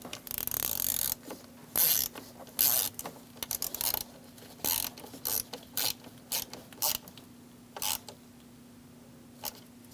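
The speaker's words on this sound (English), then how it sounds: "Install the two screws." A ratchet tool driving the two screws of a combination switch on a Chevrolet Express 2500 van, with short bursts of clicking at an irregular rhythm, quiet and close.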